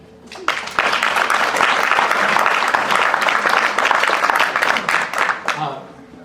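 Applause rises from the audience at a Riverhead Town Council candidates forum, a sustained burst of many hands clapping for several seconds before tapering off, with a voice briefly heard beneath it.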